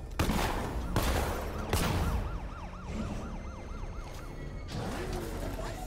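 Gunfire aimed at Batman's tank in Batman: Arkham Knight, with several heavy bursts of shots spaced out over a continuous wailing siren and rumbling game noise.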